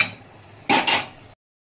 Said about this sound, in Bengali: এবার একটু আস্তে আস্তে কষবো এটাকে, মানে কম আছে কষতে থাকি